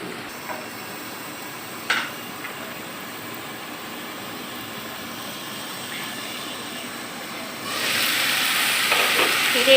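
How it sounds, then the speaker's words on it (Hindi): Minced meat keema frying in oil under a cover, a continuous hissing sizzle with a few sharp pops, swelling louder near the end as the lid comes off. "मैंने इस कीमे को तेल में फ्राई करने के लिए छोड़ दिया था 5 मिनट"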